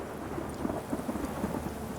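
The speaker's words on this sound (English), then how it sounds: "Of course it's gonna rain." Thunderstorm with steady rain in The Witcher 3: Wild Hunt, a constant hiss of rainfall with faint low rumbling beneath, moderately loud and unbroken.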